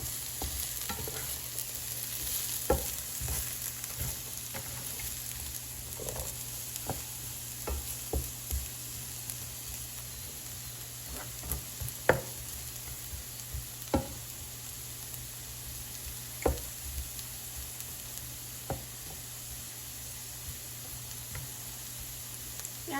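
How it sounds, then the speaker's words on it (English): Carrots sizzle steadily as they sauté in a pan, with a spoon scraping and stirring at intervals in soft clicks and knocks close by; no one speaks. "So just keep cooking and mixing until you see that they're softened."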